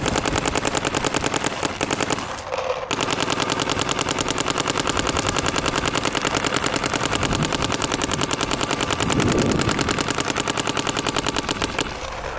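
Planet Eclipse paintball marker fired rapidly from the hip, a dense, continuous stream of sharp pops running nearly the whole time with one brief pause, loud and close.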